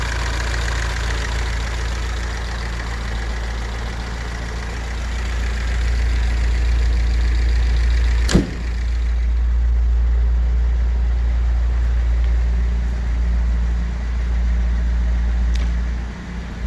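A 1937 Triumph Dolomite 14/60 saloon idles with a loud, steady, low engine rumble throughout, interrupted by one sharp click partway through and no speech.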